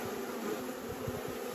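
A steady hum of honeybees clustered on a hive, where a pale newborn queen has just been set down among them; the dense buzzing is continuous and even, with no voices over it.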